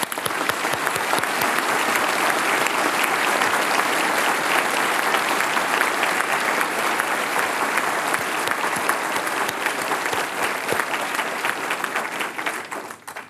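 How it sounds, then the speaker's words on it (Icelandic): Sustained applause from a large audience at a university graduation ceremony in Akureyri, dense and even clapping for the whole stretch at fairly loud level, tapering slightly at the end with no voices. "nú er leyfilegt að klappa"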